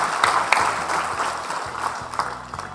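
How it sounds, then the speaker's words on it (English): Audience applause at a World Broker's Day panel event, a dense steady patter of many hands clapping that carries on without pause, with a few sharper claps standing out near the microphone. "a big round of applause to all you guys"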